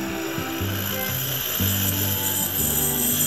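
A watchmaker's micro drilling machine with a 3 mm bit whines steadily, its pitch dipping and rising in short stretches as the bit bites into material, running continuously and close by.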